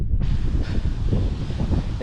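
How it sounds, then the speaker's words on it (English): Wind buffets the microphone outdoors on the Tour du Mont Blanc trail in Switzerland, a steady low rumble with gusting swells throughout. "it's getting windy."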